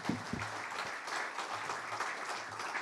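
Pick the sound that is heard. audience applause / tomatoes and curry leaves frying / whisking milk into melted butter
audience applause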